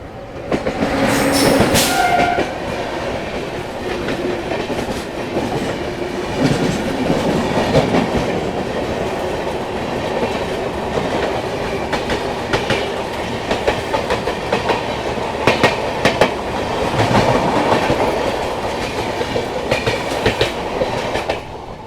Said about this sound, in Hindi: और यहाँ पर अपने से क्रॉस हो रही है आगरा लखनऊ इंटरसिटी एक्सप्रेस